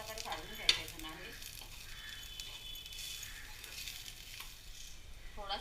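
Coriander seeds, fennel and poppy seeds dry-roasting in a pan for Agri-style mutton masala, a soft continuous sizzle with faint stirring scrapes and one light clink, heard close but quiet.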